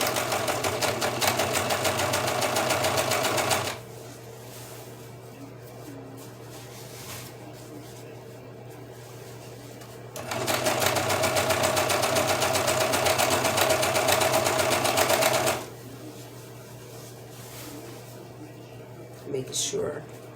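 A sewing machine runs in two steady bursts while stitching the crotch seam of a simple pair of pants, a close, even mechanical whir that starts, stops, then resumes before going quiet.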